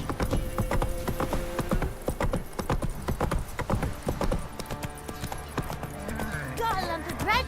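Horse hooves gallop in a steady, loud clip-clop rhythm throughout a Witcher 3 video game scene, with in-game voices talking over the hoofbeats and a brief whinny near the end.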